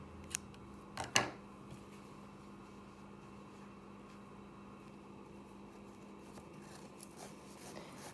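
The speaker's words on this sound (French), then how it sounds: "je vais garder du fil pour la couture et je vais couper" Scissors snip crochet yarn after a small knitted baby seal is finished, giving a couple of close, sharp cuts near the start. Quieter faint clicks and a low steady hum follow.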